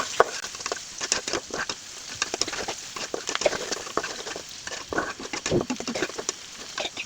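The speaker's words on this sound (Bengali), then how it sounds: "আমি এখন লাল লাল করে ভেজে নিব" Chopped onion, garlic and green chillies fry in a pan with a dense crackling patter, a continuous close sizzle broken by frequent sharp pops and stirring scrapes.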